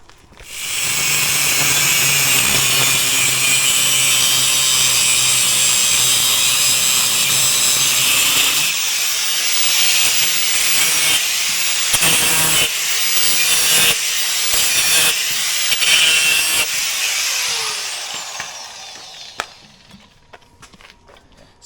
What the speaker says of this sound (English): we're going to take a grinder and we're going to cut like this lip off